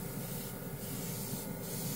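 A cheap $20 airbrush and compressor combo sprays paint over a gloss black surface, giving a steady, close, continuous hiss with no talking.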